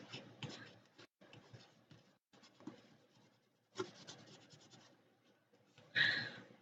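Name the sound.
burnishing a sticker down onto paper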